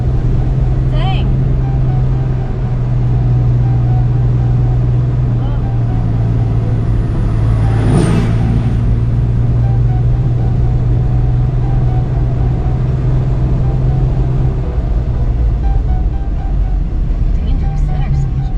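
A car climbing a steep incline in second gear, heard from inside as a loud, low, steady engine drone with a brief rising whine partway through.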